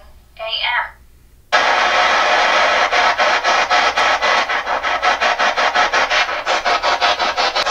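A spirit box sweeps AM radio stations overnight in a haunted antique store basement, producing loud, continuous static broken by a rapid rhythmic chopping. A brief voice comes just before the static starts.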